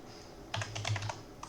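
Someone types on a computer keyboard while working in Informatica, a quick close burst of clicking keystrokes after a brief quiet moment, with no speech.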